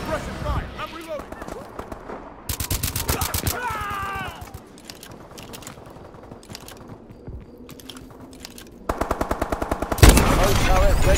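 Bursts of rapid machine gun fire from the video game Call of Duty: Advanced Warfare, loud, close and rattling, broken by quieter gaps where other game sounds play.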